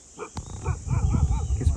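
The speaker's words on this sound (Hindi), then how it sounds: "किस पर भौंक रहा है पता नहीं।" A dog barks outdoors near a forest waterfall and pond, giving a few short, rough, close barks over a background of running water.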